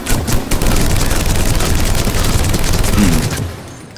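Rapid automatic fire from a modded gun in Mass Effect 3, a dense sustained burst of loud shots that winds up in the first moments, runs nearly continuously, then cuts off near the end.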